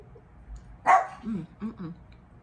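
A dog gives one sharp bark, followed by a couple of softer, lower yips and whimpers, fairly close but modest in volume in a quiet indoor setting.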